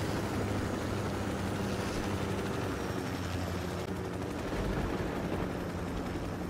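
Machine gun fire in Ghost Recon Wildlands, dense continuous rattling bursts mixed with a rotor-like drone and heavy rumble, loud and unbroken throughout with no one speaking.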